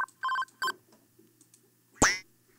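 A synthesized telephone sound from a Sytrus preset bank: a few short dial-tone beeps followed by a bright rising chirp, fairly quiet and isolated.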